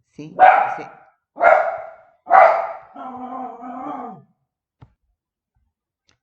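A dog nearby lets out three loud, spaced barks followed by a longer whining howl, then falls quiet apart from a brief click, indoors with little other noise.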